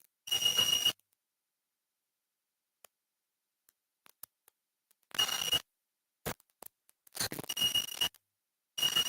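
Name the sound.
electronic buzzer sounding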